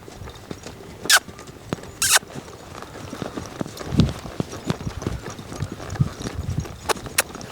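Hooves of a young colt clip-clop at a trot on firm ground, a steady irregular patter of moderate-level thuds with a couple of louder knocks, no voices.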